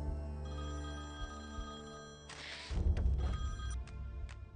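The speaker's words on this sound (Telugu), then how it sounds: "ఫోన్" A telephone rings in a tense dramatic film scene, its steady repeating tone sitting over a low musical score that swells louder partway through.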